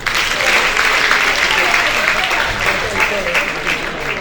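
Audience applause at a French-language slam poetry show in Côte d'Ivoire, a steady dense wash of clapping lasting throughout, fairly loud, with voices mixed in beneath it.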